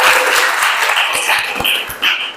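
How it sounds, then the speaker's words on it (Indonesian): Classroom applause from eighth-grade students after an Islamic studies lesson in Indonesia: dense, steady clapping from a group of pupils, close and fairly loud, holding through with a brief swell near the end. "tepuk tangan untuk kita semuanya"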